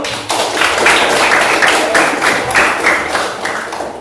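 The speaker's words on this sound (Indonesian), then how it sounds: "Tepuk tangan dulu." An audience in a classroom lesson claps for about four seconds: a dense, steady patter of many hands, close and fairly loud, fading slightly at the end.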